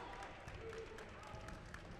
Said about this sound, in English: Cougar faithful clapping their hands